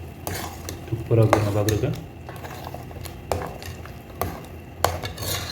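A spoon stirs and scrapes through fish curry in a sizzling pan, with clinks and scraping strokes over steady frying, while someone talks.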